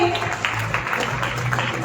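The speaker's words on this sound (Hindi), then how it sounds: "तालियां लगातार आनी चाहिए।" Applause at a conference of women banking correspondents in Uttar Pradesh, a steady crowd of hands clapping with a continuous hum beneath, moderately close and sustained.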